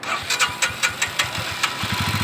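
A motorcycle engine starts and settles into a rough idle, with irregular thumping pulses that steady into a quicker putter near the end, close by and moderately loud.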